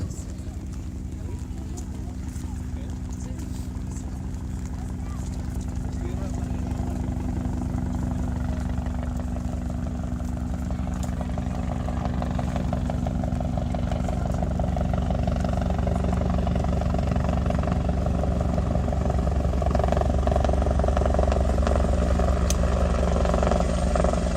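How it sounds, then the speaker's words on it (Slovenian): A military helicopter on a casualty evacuation at a military history festival drones steadily with a low rotor thump and engine whine, growing slightly louder over time, with faint voices beneath. "je že poklican helikopter, ki bo izvedel tako imenovano nujno evakuacijo ranjenega pripadnika"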